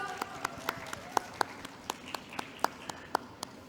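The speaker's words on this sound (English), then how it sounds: "Applause for us!" A few people clap slowly in an online plenary session, a sparse, evenly spaced series of about fifteen single claps, close and fairly quiet, with no crowd behind them.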